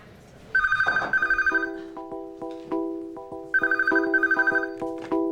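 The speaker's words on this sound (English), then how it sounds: "A phone call." A telephone bell rings out loudly and close by in two separate double bursts of rapid electric trilling, each followed by a fading tone and a short pause, with no talking.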